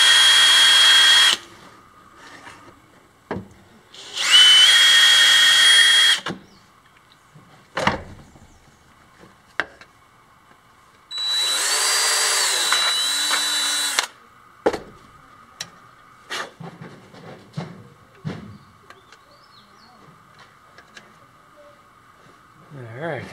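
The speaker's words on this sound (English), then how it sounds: "I happen to have some Forstner bits. They'll make a nice flat countersink for some rivets." Power drill with a Forstner bit cutting flat countersinks for rivets, three loud whirring bursts of a few seconds each, separated by clattering handling sounds and intermittent talk.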